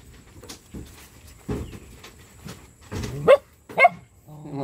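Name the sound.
puppies barking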